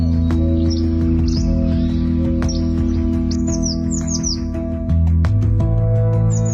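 AI-generated bird song: repeated bright chirps and quick rising tweets come in loose bursts over a steady low hum, fairly loud and close, with no talking.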